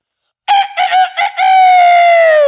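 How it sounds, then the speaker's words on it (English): A rooster gives a few short clucking calls, then a loud, close, sustained crow that slowly falls in pitch, with nothing else in the background. "and the rooster calls."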